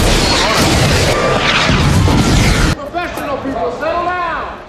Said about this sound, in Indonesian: ledakan bom saat uji coba pesawat luar angkasa